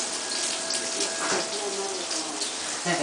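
Water runs steadily from a tap while a dish is being prepared, a continuous broad rushing splash that stays even throughout.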